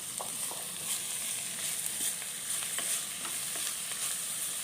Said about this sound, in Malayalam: പൊന്നാങ്കണ്ണി ചീര അതിട്ട് കൊടുക്കാം ഇട്ട് നന്നായിട്ടൊന്ന് വഴറ്റിയെടുക്കാം